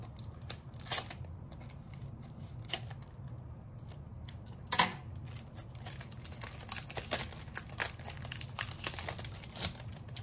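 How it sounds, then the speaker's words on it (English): Plastic shrink wrap crinkles and tears as it is peeled off a WWE 2K23 Deluxe Edition game box. The sound comes up close as irregular crackling bursts with a few sharper rips, set against a low steady hum. "So let's open the wrapper and unbox what we get in the WWE"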